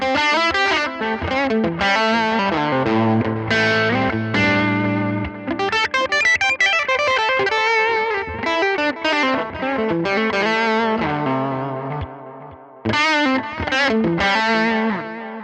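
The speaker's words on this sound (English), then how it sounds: "this is how it sounds being routed right through this very inexpensive Cubase AI software" Electric guitar with a processed, distorted tone and shimmering modulation, routed through inexpensive Cubase AI amp simulator software, plays flowing melodic phrases and sustained notes, with short pauses between runs.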